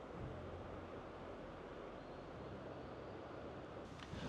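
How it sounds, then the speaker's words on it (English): Steady, faint wash of ocean surf breaking over rocks on the Taro coastline of northern Japan, a continuous roar with slight swells and some wind noise. "I could sit here for hours and just watch the waves crash over these rocks"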